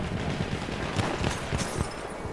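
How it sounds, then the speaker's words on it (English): Machine gun fire in the Battlefield 1 video game, a rapid clatter of shots under dense battle noise, moderately distant and continuous with no voices. "Machine gun right there!"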